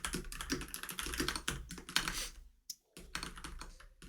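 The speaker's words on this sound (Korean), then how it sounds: "메모장 같은 걸 켜놓고 해석해서 해석한 걸 타이핑 해내는 식으로 진행해 볼게요" Fingers type rapidly on a computer keyboard, a dense clatter of close keystrokes that stops for a brief pause before resuming, with no one talking.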